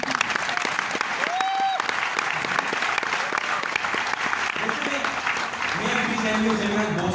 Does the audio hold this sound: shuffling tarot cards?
no